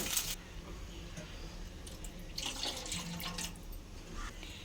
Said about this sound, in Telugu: ఇప్పుడు ఇందులో వాటర్ పోసుకున్నాము